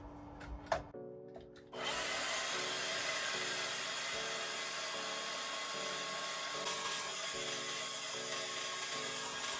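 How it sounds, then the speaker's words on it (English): A battery-powered saw cuts into bog oak for a kitchen knife handle, a few short taps first, then a loud, steady, close whining cut with a buzzing tone that holds for several seconds; no talking. "This is a battery-powered saw."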